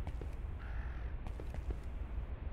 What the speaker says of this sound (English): is there a crow?